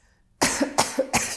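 A person coughs from smoke-filled lungs, three harsh, close coughs in quick succession after a short silence.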